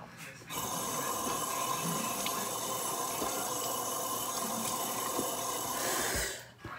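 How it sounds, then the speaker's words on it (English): Water pours steadily from a tap for several seconds, a continuous close splashing rush that stops abruptly near the end. "Got a lot of water right there."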